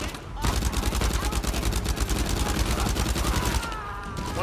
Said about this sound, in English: What the heck is shooting?